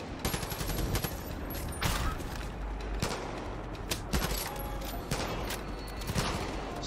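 Sustained gunfire in the video game Far Cry 5: rapid bursts of automatic shots and scattered single cracks, fairly loud, continuing throughout.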